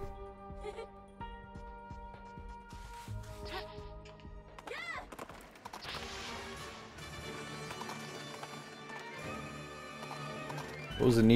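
In Princess Peach Showtime, a game horse clops and neighs amid a busy musical score, hooves tapping steadily under swelling melodic layers before a louder final swell.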